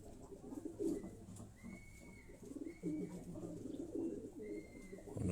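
Kasuri pigeons, high-flying birds, coo repeatedly at close range in soft rolling phrases, with faint higher calls and light background noise throughout.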